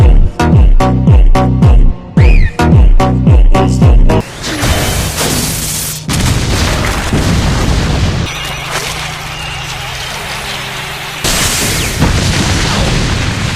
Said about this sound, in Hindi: ये आवाज और धमाके से दोहरा हमला करते हैं।